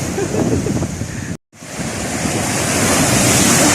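Sea waves wash steadily onto the shore beside a fishing spot, a loud continuous surf roar with wind buffeting the microphone, briefly cut out then swelling back.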